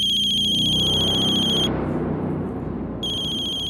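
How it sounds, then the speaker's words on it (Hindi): A landline telephone rings with a bright electronic warble, one long ring burst, a pause, then the next ring starting, loud and close with no talk. "सनी के राजकोट वाले घर की लैंडलाइन से फोन है।"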